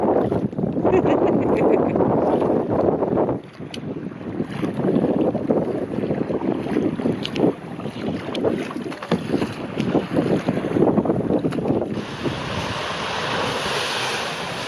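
A kayak paddles through lake waves on Lake Superior near Grand Island by Munising, Michigan, with strong wind buffeting the microphone over continuous splashing water and surf, and no voices.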